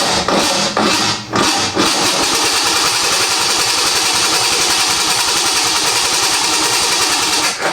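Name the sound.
project car engine cranking over but not starting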